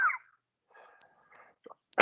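A single sharp human sneeze, preceded by a brief inhale and small breathy sounds, close and loud, with no talking.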